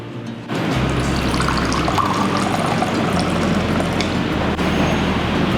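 Water poured into a glass at a restaurant table, a steady splashing rush that runs for several seconds against a low background hum, with no one speaking.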